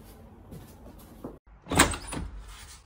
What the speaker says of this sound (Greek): κάποιος είναι στην πόρτα